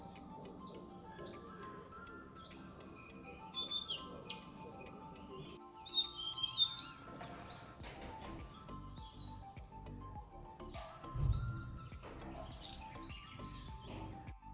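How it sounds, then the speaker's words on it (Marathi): A Tickell's blue flycatcher sings in short, thin, high chirping phrases at moderate distance, scattered across a quiet outdoor background with occasional faint rustles and other small bird notes. "टिकल्स ब्ल्यू फ्लाय कॅचर म्हणजे आपल्या निलिमाने सुद्धा न लाजता कॅमेरासमोर बिनधास्त सूर पकडला"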